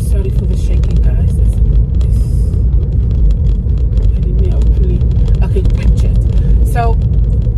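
Inside a car while driving, a steady low road rumble and engine drone fill the cabin throughout, with someone talking over it and occasional small knocks and rattles.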